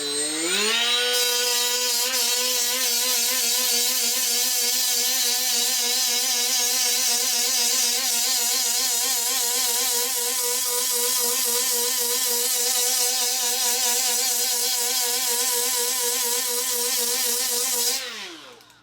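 A power tool with a 36 grit abrasive disc whines at a steady high pitch for about seventeen seconds as it abrades a small spot on a surface near a bulkhead stud, then spins down and stops.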